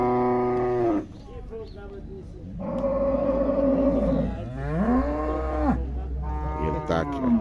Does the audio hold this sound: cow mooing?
yes